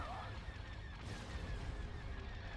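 Space-battle explosions from a Super Star Destroyer's weapons fire in the Star Wars strategy mod Thrawn's Revenge rumble on continuously, a low, muffled barrage of distant booms and crackles at quiet volume.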